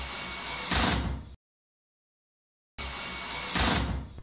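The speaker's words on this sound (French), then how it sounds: "Puis on visse des plinthes en médium que l'on a recoupées à la bonne largeur." A power screwdriver drives screws through MDF skirting boards into shelves in two short, whirring bursts separated by a silent gap, close and fairly loud.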